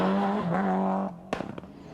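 A rally car, likely a Ford Escort Cosworth, brakes late into a notorious left-hand corner: a loud sustained engine drone that cuts off abruptly, followed by short sharp bursts near the end.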